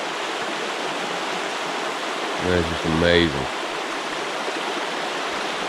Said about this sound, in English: that's all spring water